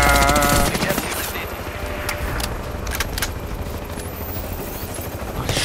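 Rapid bursts of synthetic gunfire in the video game Crysis 2 rattle continuously, with dense automatic shots over a steady engine-like rumble.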